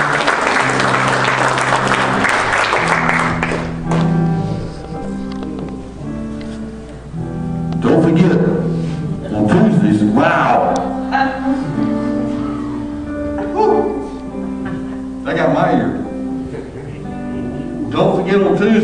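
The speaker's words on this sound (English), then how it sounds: "Give the Lord a hand clap of praise." A church congregation bursts into brisk, dense hand clapping in praise for a few seconds, which then fades under sustained keyboard music and a speaking voice.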